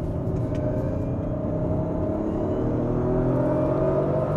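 An Audi RS4 accelerates hard in Dynamic mode, its engine a deep, continuous rumble that builds steadily, heard from inside the car with no talk.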